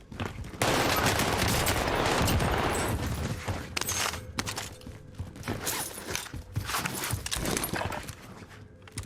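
Video game gunfire in a Rebirth solo match, a dense sustained burst of rapid shots followed by choppier bursts and scattered single reports, loud and close throughout.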